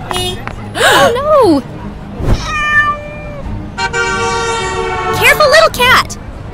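An animated cartoon cat gives two bursts of wavering, rising-and-falling meows, near and clear, with other bright tonal cartoon sounds between them.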